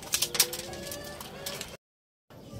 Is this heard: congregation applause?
no